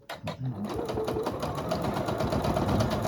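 A sewing machine stitches a poinsettia table runner in a steady, fast, continuous whir of close rapid needle strokes, briefly starting before running evenly to the end.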